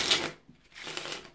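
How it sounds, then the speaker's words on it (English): A deck of playing cards being shuffled during a magic trick, a crisp papery riffle burst at the start, a quieter pause, then a second softer shuffling flutter, close and alone with no talk. "So I'm shuffling your cards, trying to get it lost."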